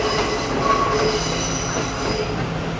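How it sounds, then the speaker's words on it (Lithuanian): A train passing underneath a bridge in Sri Lanka, its wagons rolling with a steady metallic rumble and thin wheel squeals, loud and continuous throughout. "Ai, čia mūsų traukinys pasirodo"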